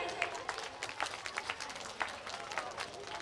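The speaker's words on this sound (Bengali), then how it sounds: "সুকান্ত মহোদয়, আমরা একটা করতালি চাইবো।" A small audience at a school prize-giving claps in scattered, uneven applause, fairly faint and distant, with a murmur of voices underneath.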